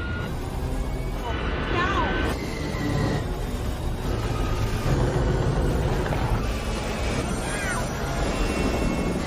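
A robot patrol aircraft in a science-fiction film gives off a dense, steady roaring whoosh with faint swept whines, loud and continuous throughout, under voices.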